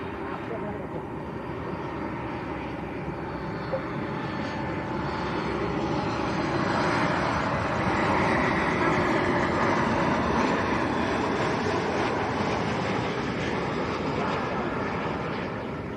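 A Ryanair passenger jet landing at Lanzarote Airport, heard as a loud, steady roar of jet engines and rushing air that swells gently mid-clip and stays continuous throughout, with no talk audible.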